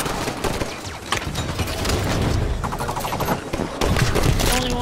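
Dense, continuous gunfire and weapon bursts in Halo 5, Raid on Apex 7 map, loud and chaotic with overlapping shots and booms and faint game sounds behind.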